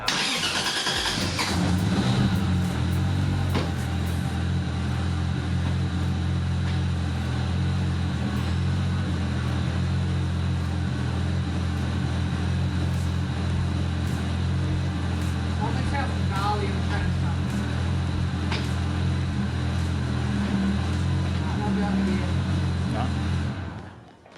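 A Toyota Cressida with a swapped 1J engine cranks and catches, then idles and runs steadily and loudly up close with a whining gearbox, while people talk over the running engine.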